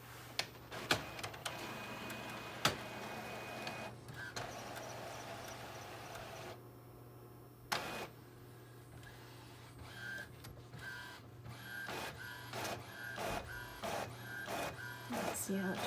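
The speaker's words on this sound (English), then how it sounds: "So right now it's sending the information to the printer. The printer's going to print this." A printer running a draft-quality print of journaling text around a page edge, giving a steady mechanical whir with repeated short clicks and carriage knocks, moderately close, with low background hum and no talking.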